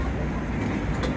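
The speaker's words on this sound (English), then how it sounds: "Check out the tram" A tram passes along a street in Luxembourg, a steady broadband rumble of rail vehicle and traffic noise heard throughout, fairly close and continuous.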